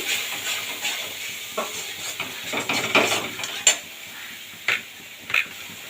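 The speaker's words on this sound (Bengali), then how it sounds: "এই সময় পরিমাণ মতন হলুদ আর লবণ দিয়ে দেবো ভালোভাবে এটা মিশিয়ে দেবো" Turmeric and salt are stirred into Bombay duck (lote fish) frying in oil for a dopiaza, with a quiet sizzle under repeated spoon scrapes and a few sharp clinks against the pan.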